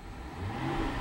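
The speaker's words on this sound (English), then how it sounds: "I'm going to rev the engine." 2011 Cadillac CTS 4 coupe with a 3.6 liter V6 revving, a short close engine roar climbing steadily in loudness over about a second, with no talk.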